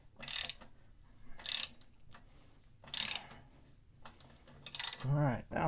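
Socket wrench ratcheting as it tightens a pedal on an indoor cycling bike, in several short bursts of clicking separated by pauses, near and fairly quiet.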